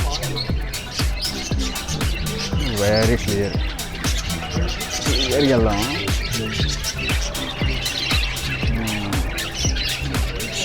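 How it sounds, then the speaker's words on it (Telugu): Caged lovebirds at a church museum in Chennai keep up dense, rapid chirping and tweeting close by, a continuous high twittering while someone talks over it. "ఇక్కడ లవ్ బర్డ్స్ ఎంత బాగున్నాయి"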